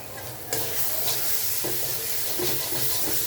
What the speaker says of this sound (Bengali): অল্প তেলেই ভাজবো